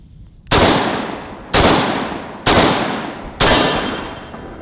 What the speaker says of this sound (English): Let's try a couple of these high brass number 4 buckshot loads. And a Winchester slug to finish it off.